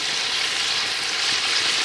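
Fish frying in about a litre of hot oil, a loud, steady, close sizzle with continuous crackling and no pauses.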